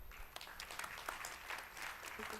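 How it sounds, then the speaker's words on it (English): An audience at a college alumni meet applauds, a faint, moderately dense patter of clapping from a fairly distant crowd, steady over a couple of seconds. "A big round of applause for them."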